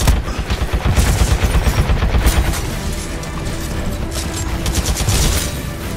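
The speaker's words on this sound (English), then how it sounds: "he hits a series of very impressive SMR shots" Rapid SMR gunfire from Titanfall 2, loud repeated bursts of shots rattling across most of the stretch with a brief lull in the middle, then more shots near the end.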